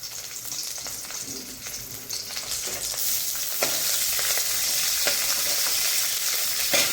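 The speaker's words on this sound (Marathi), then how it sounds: "आलंही जरा थोडंसं भाजून घ्यायचं" Ginger roasting in a pan with garlic and green garlic, a steady close frying hiss that swells louder midway, broken by occasional stirring scrapes.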